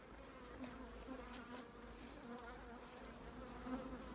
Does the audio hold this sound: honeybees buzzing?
yes